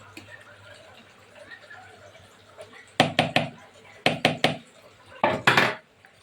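Khichuri being scooped from a pot into a hotpot, three quick bursts of clattering spoon-on-metal knocks in groups of three, close and loud after a stretch of quiet background chatter.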